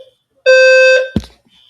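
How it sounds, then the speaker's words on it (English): An alarm goes off during a live stream: a single loud, harsh electronic buzz holding for about half a second, followed by a short thump, with no talking. "Oh, the alarm came on just in time."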